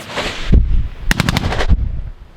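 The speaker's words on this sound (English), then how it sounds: "the regime started shooting back with a lot of their belt-fed machine guns" Belt-fed machine guns fire in combat in Myanmar in two loud, close bursts. The second is a rapid run of about six shots, followed by a heavy thump, with no speech.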